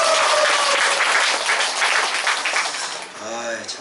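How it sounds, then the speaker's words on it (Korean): A Korean church congregation applauds in a dense, loud burst that fades toward the end, where a voice begins speaking over the last scattered claps. "박수예요, 박수."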